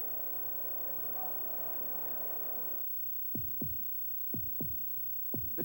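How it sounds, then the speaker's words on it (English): A low, throbbing heartbeat pulses a few times as a slow, steady series of thuds after a stretch of dull hum, in a Chevrolet commercial. "Listen to the heartbeat of America."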